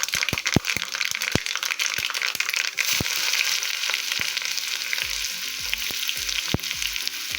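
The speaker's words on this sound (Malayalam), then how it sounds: "ഉലുവ മൂത്ത് വരുമ്പം ഉള്ളി ഇട്ട് കൊടുക്കുന്നു" Onion dropped into hot oil with fenugreek seeds crackles and sizzles loudly up close, with sharp popping snaps scattered through a continuous frying hiss.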